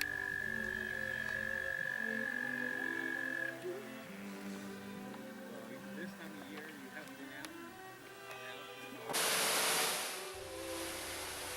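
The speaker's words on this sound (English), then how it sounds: "listen to the trilling of the frogs" Frogs at Rose Lake croak and trill in a steady chorus, close and fairly loud, with one sustained high trill early on and a burst of hiss near the end.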